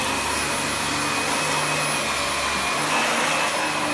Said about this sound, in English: He's got to do the hoovering because he made a mess.